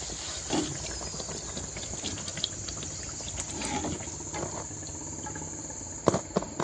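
Spinach puris deep-frying in hot oil, pressed down as they puff: a steady, dense crackling sizzle throughout, with a few sharper bursts toward the end.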